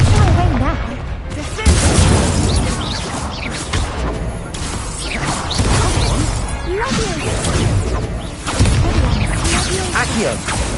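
Incendio fire spells cast in Hogwarts Legacy during a duel, with repeated loud whooshing blasts, crashes and bursts layered over game music and a spoken incantation.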